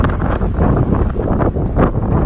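Loud, steady wind in New Mexico along the Continental Divide Trail buffets the microphone with a low roaring rumble that swells and eases briefly.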